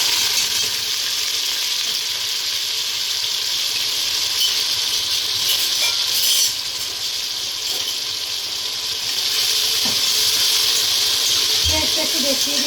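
Onions frying in oil for biryani in a home kitchen, a steady, fairly quiet hiss of sizzling that runs throughout, with a few faint clinks near the end.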